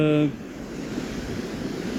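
Steady rushing water noise as floodwater pours over a mountain road in the Alps, broad and continuous, with a brief tonal hum at the start; no voices.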